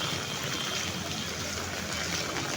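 Floodwater rushes steadily across a flooded road during heavy rain, a continuous broadband wash of flowing water at moderate distance with no break.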